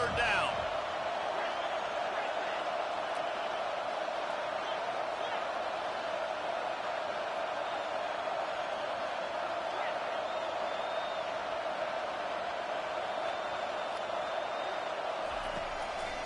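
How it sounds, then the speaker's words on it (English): Steady, dense stadium crowd roar during third down of a college football video game, Louisville at Mississippi State, holding at a constant loud level throughout. "Decibels rising as the crowd gets behind this defense on 3rd down."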